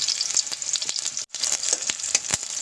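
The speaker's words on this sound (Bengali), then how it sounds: "এখন একটু নাড়িয়ে নিচ্ছি যাতে হাফ ভাজা ভাজা হয়ে গেল।" Very hot oil in a pan sizzles loudly and densely around frying ingredients for a bottle-gourd chicken curry, with quick stirring clicks throughout and a brief hush midway; no one speaks.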